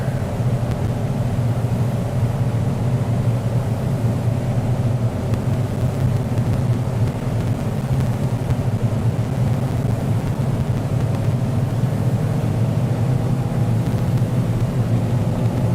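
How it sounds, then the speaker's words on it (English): Aircraft engines powering up in Microsoft Flight Simulator 2020, a loud, constant low rumbling drone that holds steady throughout with no voices over it. "I love how you hear the engines slowly charging up."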